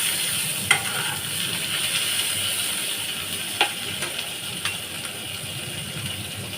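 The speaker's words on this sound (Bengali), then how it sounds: "দেখো বন্ধুরা, পেঁয়াজগুলো লাল লাল করে ভাজা হয়ে গেছে" Onions frying in a pan, a steady broadband sizzle with a few sharp clicks of a utensil scraping and stirring, close and continuous with no talking.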